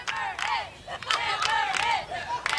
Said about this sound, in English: The crowd just going wild.